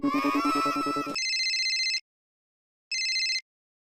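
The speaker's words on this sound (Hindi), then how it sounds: "अरे रुके, मैं फोन करता हूँ।" A phone rings during an outgoing call: a short melodic tone gives way to loud, clean electronic ringback bursts separated by a pause of silence.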